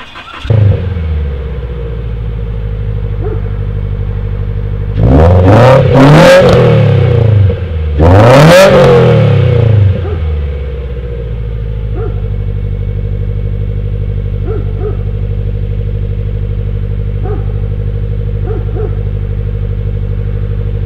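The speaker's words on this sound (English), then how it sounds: "And then we'll do a little sound clip." Subaru BRZ/FRS fitted with an aftermarket front pipe and over pipe, idling with a steady low exhaust drone, then two sharp revs rising and falling around the middle before it settles back to a smooth idle.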